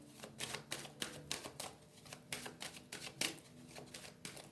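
A deck of tarot cards being cut and handled in a quiet room, with a run of soft, crisp card flicks and riffles coming in irregular bursts close to the listener, and no voices.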